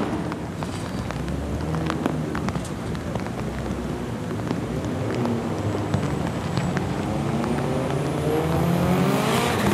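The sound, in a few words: drift cars running at Formula Drift Japan, Okuibuki Motor Park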